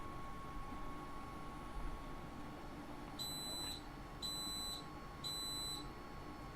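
A 3D printer signals a finished print with three short, evenly spaced electronic beeps over a quiet background hum, each a bright high-pitched chirp.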